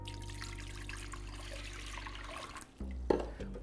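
Four cups of water poured into a cooking pot for quinoa, a steady trickling stream that stops near the end, followed by a faint clunk.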